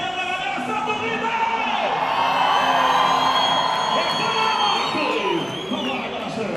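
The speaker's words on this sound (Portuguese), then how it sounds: "O Santa querendo ouvir a gritaria da galera, Santa grita!" Spectators at a Superbike motorcycle race at Interlagos shout and cheer together in a loud, sustained roar of many voices that swells and holds for several seconds.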